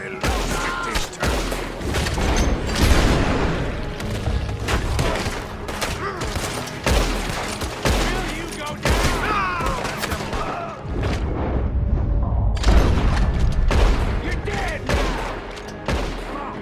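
Dense, loud volleys of gunfire in a video-game town shootout in Red Dead Redemption 2, with rapid overlapping shots and booms running almost continuously, and shouted voices mixed in.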